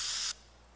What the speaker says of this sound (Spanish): nosotros tenemos no solamente un martillo, sino tenemos un spray can.